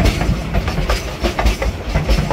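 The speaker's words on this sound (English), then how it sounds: "welcome to the Durango Silverton, the number one for a reason, the most scenic train in the United States." The Durango Silverton scenic train rumbles along with steady rhythmic clickety-clack of wheels on rail joints, a close, dense rolling sound with no talking.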